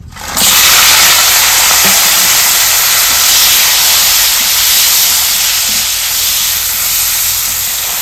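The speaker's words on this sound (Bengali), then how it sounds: "এবারে এতে হলুদ আর নুন দিয়ে একটু ভেজে নিব কড়াইতে দিয়ে" Cleaned crabs with turmeric and salt go into a hot wok, setting off a loud, immediate hiss that holds as a steady, intense sizzle close by with no talk.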